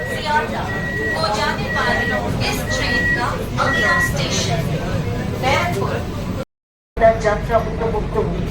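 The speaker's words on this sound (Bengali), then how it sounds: "ব্যারাকপুর স্টেশন ছেড়ে আমাদের ট্রেনটি বেরিয়ে আছে" An air-conditioned local train on the Sealdah division pulls out of Barrackpore station, its steady rumble running under onboard voice announcements, with a brief dropout near the end.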